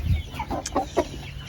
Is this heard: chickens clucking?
yes